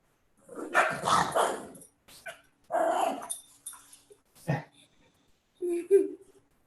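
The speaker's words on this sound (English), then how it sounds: "Jiu-jitsu dog growling." A dog growls and barks indoors in several rough bursts separated by pauses, with one sharper yip near the end.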